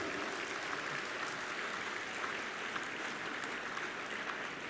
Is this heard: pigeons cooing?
no